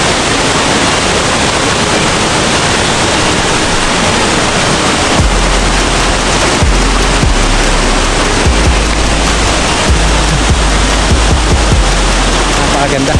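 Hulugan Falls roars as a broad, constant wash of falling water, loud and close. Low rumbling bursts break in partway through, and no clear speech rises above the noise.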